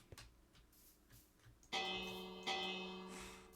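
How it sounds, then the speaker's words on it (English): A bell rings in a town centre in a video game, two clear metallic strikes with long ringing decay following a quiet, faintly ticking background, moderately loud and alone. "I was just ringing the bell in the town"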